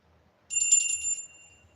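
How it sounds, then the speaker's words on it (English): A small metal bell, one of a pair of little souvenir bells marked Japan and Singapore, gives a single bright ring that sustains briefly and fades, heard alone in a quiet room. "we have this little bell over here"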